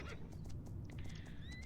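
A horse in the video game Horse Life whinnies with a rising, wavering neigh while hooves clip-clop softly underneath, all fairly faint and close.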